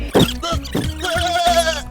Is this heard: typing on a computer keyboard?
no